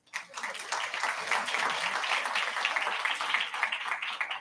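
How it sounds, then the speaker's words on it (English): A live audience at a World Food Day event gives a sustained round of applause, dense steady clapping building quickly and holding evenly throughout at moderate loudness. "Please give them a round of applause."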